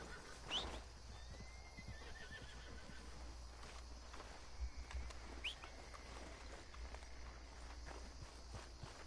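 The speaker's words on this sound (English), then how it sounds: "Careful with that horse, Arthur." A horse in Red Dead Redemption 2 gives a short neigh at a camp, with soft hoof clip-clops and faint birdsong in a quiet outdoor background.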